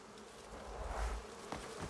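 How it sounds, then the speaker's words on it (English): Bees hum around an apiary in the video game Crimson Desert, a thick, unbroken buzzing that swells briefly in the middle and carries on without any voices. "There's an apiary around here."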